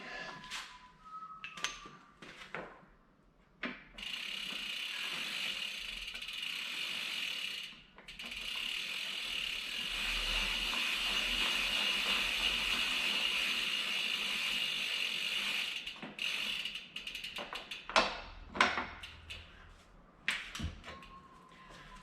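A pedal spanner tightens a right-hand pedal onto a gravel bike crank, giving rapid ratcheting clicks in bursts, then a sustained grinding whir, with scattered knocks and taps close up and no talk.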